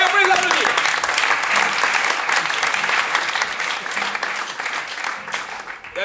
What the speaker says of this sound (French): Tamara et Stenson, bon travail, on peut les applaudir.